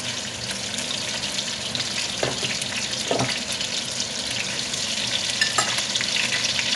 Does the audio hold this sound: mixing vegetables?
yes